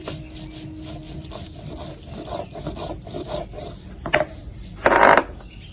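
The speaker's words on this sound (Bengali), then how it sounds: "রান্না হবে তার জন্য একটু জিরে বেটে নেবো" Cumin being ground by hand on a grinding stone in a home kitchen, a soft continuous rubbing and scraping at close range, with a couple of louder scrapes near the end and no talk.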